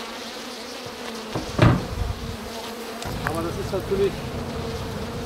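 Honey bees buzzing steadily at an opened hive in spring, a continuous droning hum with a few nearby passes and light knocks, under a brief spoken word.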